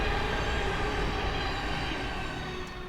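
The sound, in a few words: trains passing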